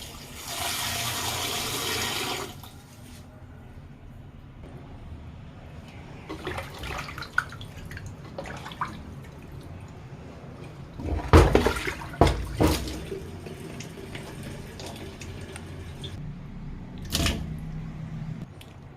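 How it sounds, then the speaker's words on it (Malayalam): Sardines are scrubbed and rinsed with water in a clay pot, giving close splashing and sloshing bursts with scraping and clatter, a steady rush of water at the start and scattered louder handling noises later, with no talking. "ഇതിന് നമുക്ക് നല്ലോണം ഒന്ന് ഈ മൺചട്ടിയിലിട്ട് ഉരച്ച് കഴുകി വൃത്തിയാക്കിയെടുക്കാം"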